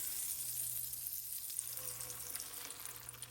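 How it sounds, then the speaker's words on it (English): An egg frying in a hot pan gives a steady, soft crackling sizzle, fairly faint and continuous, with a few small pops toward the end and no voices. "We got some good sizzle going on."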